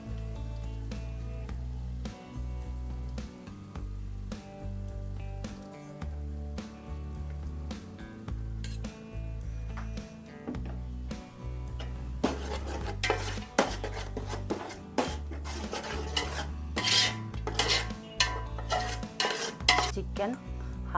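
Chicken biryani masala stirred in a pot: a metal spoon scrapes and clanks against the vessel in irregular strokes, getting busier and louder toward the end, with no talk.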